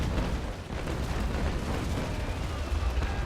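A broadside of cannon fire from a sailing warship with 6-pounder long guns in a naval battle video game rolls out as a continuous deep rumbling roar of overlapping blasts, loud and sustained throughout.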